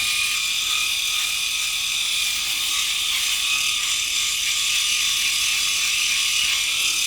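A rotary electric shaver, either a Braun Series 9 Pro+ or a Philips i9000 Ultra, hums in a steady close buzz as it glides over the jaw and chin, running continuously without any talk.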